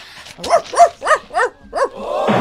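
A dog gives five or six sharp barks in a quick, uneven series, loud and close, followed by a higher whiny yip as the barking stops.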